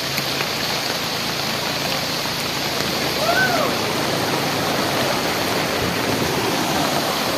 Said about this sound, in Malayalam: പാറക്കലെ വെള്ളച്ചാട്ടം